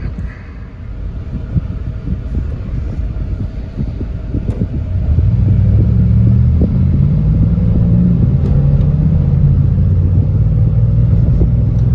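A Pontiac Vibe engine hums at around half throttle on a test drive, heard from inside the car as a low, steady rumble that swells louder midway and holds, with road and wind noise underneath.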